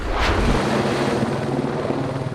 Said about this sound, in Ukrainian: за допомогою вертольота вона добирається до нового пасовища